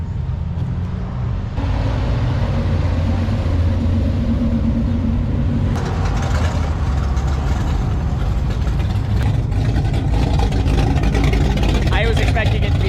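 A hot rod engine at a drag strip event rumbles loudly and steadily, a deep idling drone with shifting revs, while people talk nearby.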